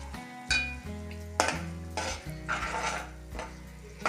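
Metal lid set on a cooking pot of oysters in a home kitchen, several quiet clanks and scrapes of metal on metal spread over a few seconds, close by, with a low steady hum underneath.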